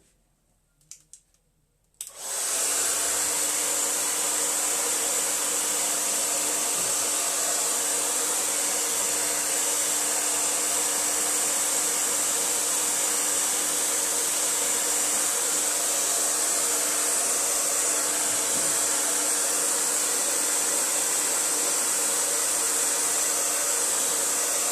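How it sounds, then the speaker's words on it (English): A blower switches on after a couple of seconds of quiet and runs steadily with a loud, even whoosh, drying a freshly painted acrylic forest painting. "So let's just dry it a little. So I hope you have your blower there."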